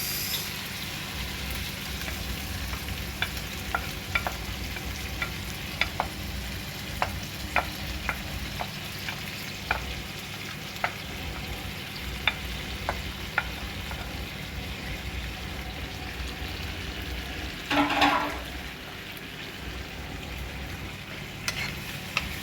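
Sweet and sour chicken frying in a pan, a steady soft sizzle under sharp, periodic scrapes and clicks of a utensil stirring, with a brief louder burst of sizzling near the end.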